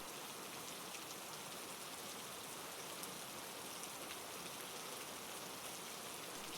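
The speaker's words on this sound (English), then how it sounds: "The rain falls steadily, without interruption, a constant stream from the darkened heavens" Gentle, steady rain falls without pause, a soft continuous hiss that stays even and close throughout, with no other sounds.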